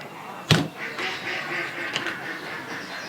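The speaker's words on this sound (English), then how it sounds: "duck" Duck quacking: a sharp loud call near the start, then softer scattered calls and a second brief call at about two seconds, with faint outdoor background.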